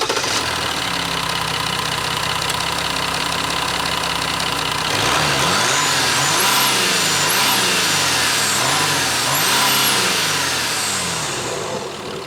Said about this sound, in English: It has that traditional diesel clatter.